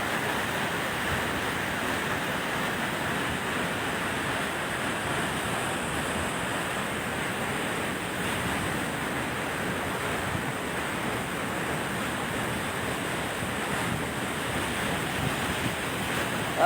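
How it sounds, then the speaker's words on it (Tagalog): Powerful waterfall with a strong flow, a loud, constant broadband rush of falling water, steady and continuous, with some wind buffeting and no voices. "Ganda ng falls."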